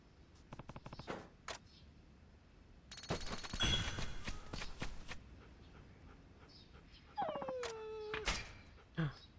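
Pet dog in the samurai-era action game Like a Dragon: Ishin! letting out a high, falling whimper near the end, following a scatter of game effects and clicks, with no voices.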